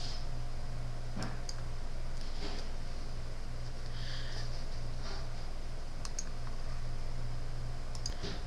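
A computer mouse clicks several times, sharp, faint, close taps spaced irregularly over a low steady electronic hum, with no talking.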